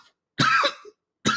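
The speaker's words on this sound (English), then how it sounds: "The prospector voice just made me cough." A single sharp cough right up close, followed by a brief pause and the start of a second cough, loud against near silence.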